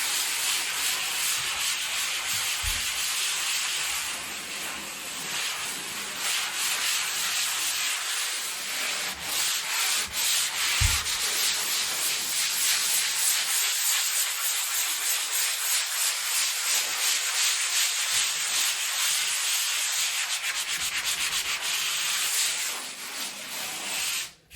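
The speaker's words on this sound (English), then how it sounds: "I'm just going to start sanding it in" A sanding sponge rubs back and forth over a drywall patch in a continuous, close, raspy hiss with brief pauses and no speech.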